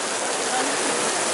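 Steady rain falls throughout, a dense, even hiss of drops on a surface, close and continuous without any break.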